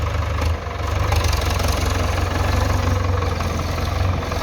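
A Ford tractor engine idles steadily with a low, rhythmic knocking chug, close and loud, running unchanged throughout.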